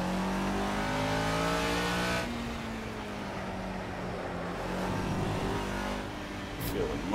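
A race car's engine in the Project CARS racing game revs hard and steadily, its pitch climbing through gear shifts with a brief drop as it shifts, loud and continuous throughout.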